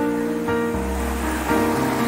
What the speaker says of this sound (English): right now you can see the flowing water